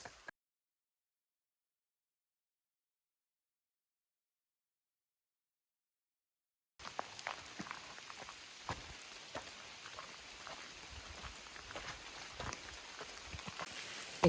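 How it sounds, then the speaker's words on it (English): Rain falling in Shenandoah National Park, a dense patter of drops on surfaces that starts abruptly after a long stretch of silence, then holds steady and close with no talk. "It's raining harder"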